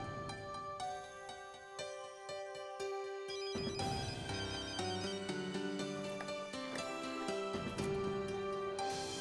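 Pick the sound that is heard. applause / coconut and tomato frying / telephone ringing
telephone ringing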